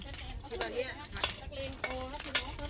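Food sizzles and scrapes in an old wok as a utensil stirs it in quick, irregular strokes, close by, with faint clinks.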